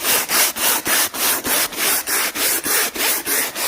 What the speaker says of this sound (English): I'm just going to scrub it and hope for the best.